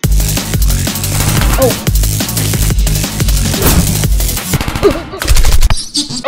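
Gunfire in the Henry Stickmin game Escaping the Prison, loud rapid bursts of cartoonish shots repeating close and dense, followed by brief game sound effects.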